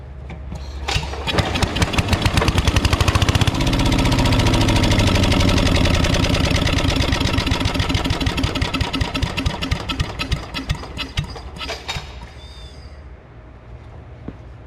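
An 8 HP Briggs and Stratton chipper engine, first start in ten years, cranks and catches, then runs loud and close with a rapid, knocking chug that settles to a lower idle.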